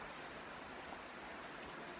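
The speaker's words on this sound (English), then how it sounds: "actually rain is falling now" Steady rain falls heavily and evenly, a dense continuous hiss with no breaks and no voices.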